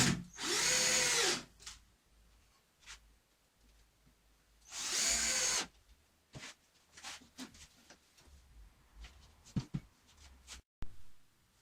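Power drill driving screws to attach hinges on a foldout outfeed table for a thickness planer: two loud, close bursts of about a second each, followed by quieter intermittent workshop clatter and taps.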